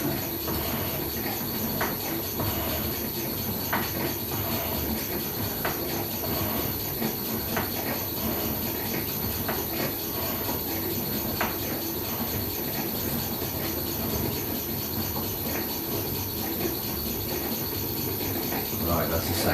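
Atlas metal shaper squaring the ends of a steel test bar, a steady mechanical hum and hiss with a high whine and regular faint ticking strokes, running continuously throughout.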